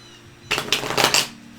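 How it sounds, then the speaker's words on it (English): Tarot cards are shuffled in a quick burst of crisp riffling and flicking that lasts about a second, close and clear, after a quiet start. "Something's wrong with my shuffling today"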